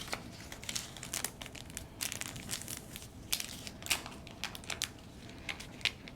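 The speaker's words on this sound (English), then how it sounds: "what I'm going to do here is just flatten out the liner" A paper cupcake liner is pressed and flattened by hand, giving soft irregular crinkles and crackles in quick bursts, close and quiet, with no voices.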